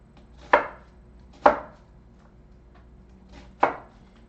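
Three sharp knife chops strike an onion on a cutting board, close and crisp, with the first two about a second apart and a longer pause before the third, no talking.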